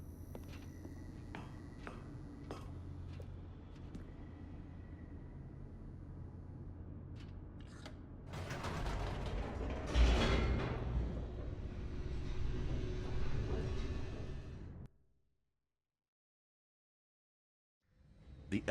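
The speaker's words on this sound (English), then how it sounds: "The elevator raced downward, plummeting towards an unknown fate." An elevator descends in The Stanley Parable, a low rumbling hum that swells into a louder rushing, rattling roar, then cuts abruptly to silence before a faint sound returns at the very end.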